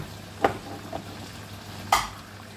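Coconut milk goes into a pan of chicken curry over a low, steady sizzle, with two brief splashy bursts standing out, and no talking.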